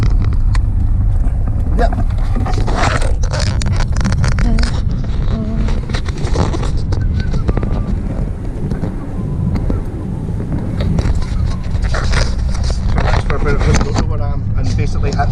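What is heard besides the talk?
Panda car driving in fourth gear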